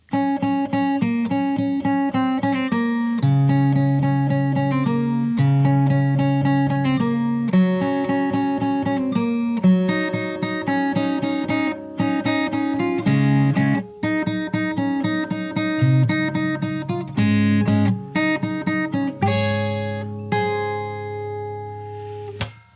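A guitar plays a full song section with steady strummed chords and picked notes, loud and continuous, ending on a ringing chord.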